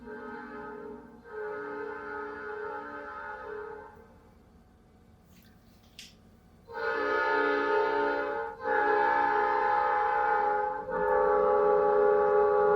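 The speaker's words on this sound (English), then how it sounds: "There goes the train." A train passes in the background with long sustained horn blasts, rising and falling in several loud drawn-out bursts, heard from a distance without talking over it.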